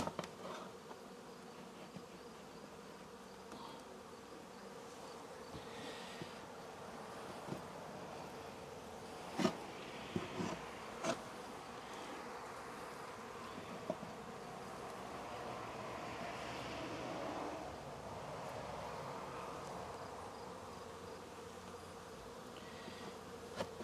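Honey bees from a swarm hum continuously around a hive during an inspection, a steady low drone with brief louder buzzes as individual insects pass close.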